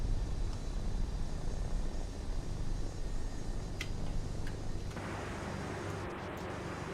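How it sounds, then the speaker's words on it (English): Other aircraft in the flight simulator X-Plane 11: a steady low engine drone and broadband hum, fairly faint, running throughout with a slight shift in tone partway. "I don't know why the other planes sound as horrible as they do"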